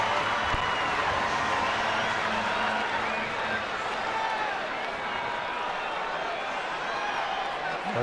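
Crowd applause at a San Diego at San Francisco baseball game, a steady wash of clapping and murmur from a large stadium audience holding at an even level throughout.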